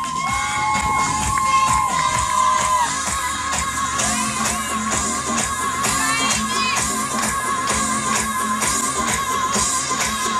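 A crowd at the Miss Tampere beauty pageant cheers and applauds its finalists, loud and continuous with whoops and shouting layered over music in a big hall.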